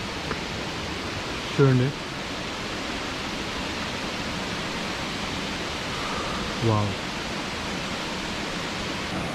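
Vibhuthi waterfall near Gokarna pours in a constant broad rushing wash of water, steady and enveloping, while someone speaks briefly twice over the roar.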